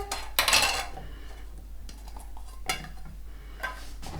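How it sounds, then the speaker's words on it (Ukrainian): Clinking metal and glass clatter as lids go onto jars of marinated cucumbers, with a loud burst of rattling at the start and a few lighter clicks afterward. "Закриваю кришками."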